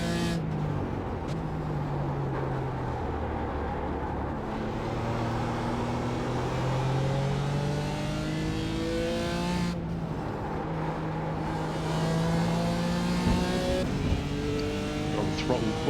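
A GT4 race car engine in the iRacing video game at the Spa circuit, revving steadily with rising and falling pitch sweeps as gears change, loud and continuous throughout with other cars audible behind it.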